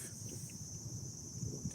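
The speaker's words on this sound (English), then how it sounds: "Dang, there's so many crickets." Many crickets chirp in a steady, high-pitched outdoor chorus, faint and continuous over a low rumbling background.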